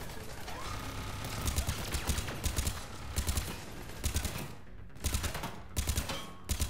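Rapid bursts of gunfire aimed at a turret in Mass Effect 3, arriving in clustered volleys with short pauses between them over a dense, steady battle din.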